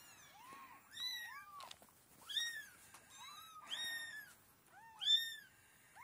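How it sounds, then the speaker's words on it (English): A mother cat meows repeatedly, a series of rising and falling calls coming in uneven bursts, fairly close and clear over a quiet room with no talking. "a mama cat"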